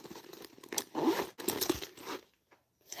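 A zipper pocket on a fabric bag is worked by hand, giving a run of close, scratchy zipping and rustling strokes with brief pauses, nearby and fairly quiet.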